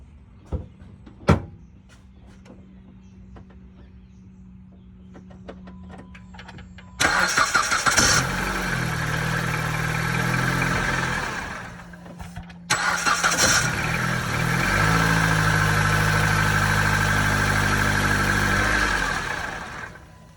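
A Dodge Caliber with a newly replaced starter cranks and fires up, settling into a steady loud idle, then is cut and restarted a second time, with a sharp click before the first start.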